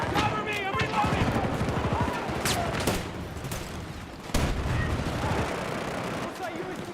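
Video game gunfire, rapid bursts and single shots that crack repeatedly at close range, overlapping with a player talking throughout.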